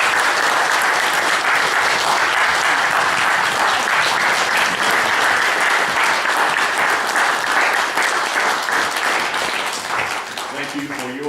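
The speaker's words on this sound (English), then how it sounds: "And they deserve a round of applause." A crowd at a Veterans Day ceremony breaks into sustained applause for veterans seated up front, loud dense clapping that runs for about ten seconds before tapering slightly at the end.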